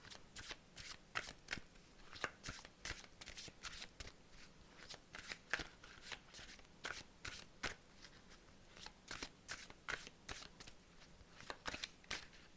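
Tarot cards being shuffled by hand in a quiet room, a soft close series of crisp riffling bursts repeating at a steady, brisk rhythm throughout.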